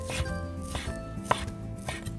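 A knife shreds slices of cooked chicken in a kitchen, giving a few sharp chopping taps against a board over steady background music.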